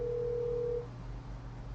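An outgoing phone call rings out to a real-estate agent: a single steady ringback tone sounds for under a second, then stops, leaving a low line hum.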